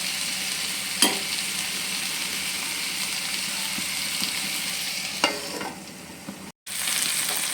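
Green chilli chicken simmering in a pan until its water cooks away, giving a steady, even hiss of bubbling and sizzling with a few sharp clicks and a brief dropout near the end.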